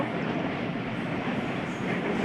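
A train rumbles steadily as it approaches on the Hardinge Bridge at Pakshi, a dense broadband roar with faint rhythmic clatter, fairly close and constant throughout.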